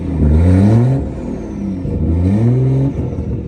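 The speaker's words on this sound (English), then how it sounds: "my B58 in this M240i is not going to sound as good as that clip just then, but it does sound something like this." A BMW M240i with a B58 engine revs its exhaust in two clean, crisp rising pulls. The engine note climbs steadily, drops, then climbs again, loud and close.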